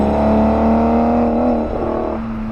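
Aston Martin Vanquish S with a 520-horsepower 6-litre V12 idling and revving, a steady, smooth mechanical hum with a rising note that drops away, heard close and alone.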